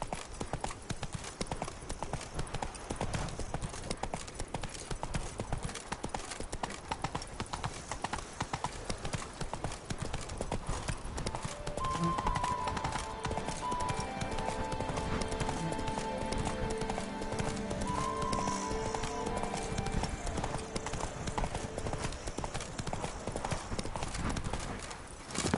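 Hoofbeats of the horse Roach in The Witcher 3 clip-clop in a steady rapid gallop throughout, with a brief whinny midway and a voice speaking over the riding sounds.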